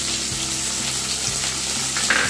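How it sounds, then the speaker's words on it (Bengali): Chopped onion sizzling steadily in about a tablespoon of hot oil, a loud, dense frying hiss with a few soft stirring knocks, no voices. "এবার আমি এই তেলের মধ্যে দেব পেঁয়াজ কুচি"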